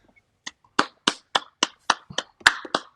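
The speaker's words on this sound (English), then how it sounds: "So everybody give a warm applause for Grandma Polly." Sparse applause for Grandma Polly, about nine distinct claps spaced roughly a quarter second apart, fairly close and dry, with no talk over them.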